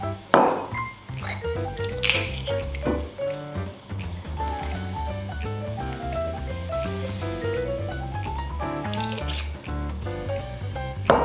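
Ice cubes clink and rattle into a cocktail glass of Aperol spritz, a burst of sharp pings followed by settling cracks and fizzing, close and fairly quiet.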